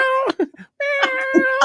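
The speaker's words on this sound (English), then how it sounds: "You may hear my cat roaring in the background." A pet cat meows loudly and close by indoors, giving two drawn-out, strained calls separated by a short pause, with no other sound around them.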